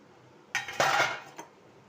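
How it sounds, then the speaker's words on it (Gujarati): A metal plate is set down over a pan of cooking tindora, potato and onion, giving a sharp, close clink followed by a shorter rattle and one light tap as it settles. "અને આ રીતે થાળી ઢાંકી દઈશું"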